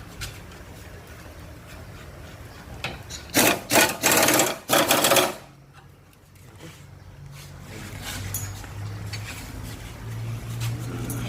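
A power tool tightens a nut on a stabilizer link of a Honda Civic Dimension, giving several short, loud whirring bursts close by, followed by quieter workshop background sound.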